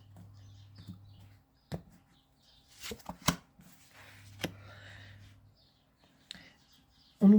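A deck of cards is cut and shuffled at a quiet card-reading table, giving a few sparse snaps and short riffling bursts separated by near silence.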